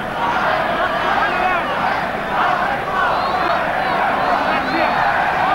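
Canterbury rugby crowd at Jade Stadium during an All Blacks versus Springboks test, a steady dense roar and babble of many voices filling the stands throughout, loud and continuous with no clear individual words.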